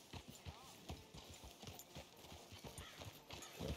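Horse hooves clip-clop in a quick, steady rhythm in the Western video game Red Dead Redemption 2, fairly close and faint, with a brief whinny and muffled voices beneath.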